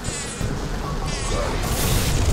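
Bees swarm from a beehive in the video game BioShock, a steady droning buzz that swells over a rumbling game soundscape, with a voice speaking briefly.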